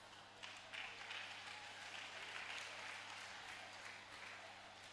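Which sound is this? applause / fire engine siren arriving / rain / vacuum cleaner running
applause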